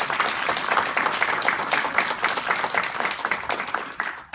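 An awards luncheon audience in a banquet hall claps warmly. Individual hand claps are distinct within the steady applause, which lasts about four seconds before tapering off.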